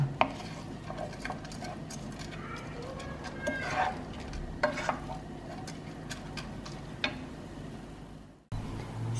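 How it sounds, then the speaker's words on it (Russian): Rice sizzles steadily in a hot pan over medium-high heat while a utensil scrapes and stirs it in irregular strokes, close up. "будем вот так помешивая, постоянно обжаривать и рис на огне выше среднего"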